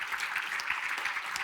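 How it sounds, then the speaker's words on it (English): An audience at the LIFE Awards 2024 ceremony gives a big round of applause, dense, sustained clapping from a crowded room with no voices heard. "A big applause."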